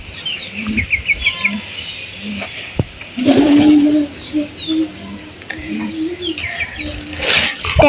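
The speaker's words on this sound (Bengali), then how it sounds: "কবুতর ওই তো খোপে, দেখেছেন আপনারা? এই যে এই খোপেও আছে" Pigeons in their coop, with repeated close cooing and calls over faint background noise and brief voices.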